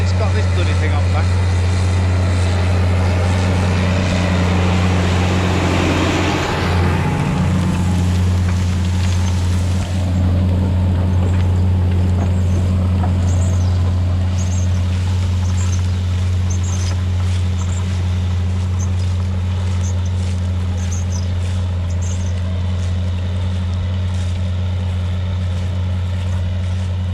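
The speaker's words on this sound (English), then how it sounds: "it's working hard though, is that tractor" A heavy tractor engine drones loudly and steadily at close range, with a low rumbling hum and clattering from the cultivator working the field.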